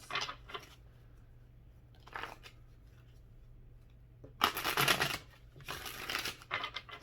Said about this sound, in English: let's get one more shuffle and then we'll start pulling cards